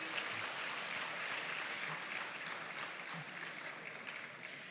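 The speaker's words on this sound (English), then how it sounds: "Another round of applause for them, please." Audience applause at a school farm awards grand final, a steady dense wash of clapping from a large crowd that holds at even loudness throughout with no voices on top.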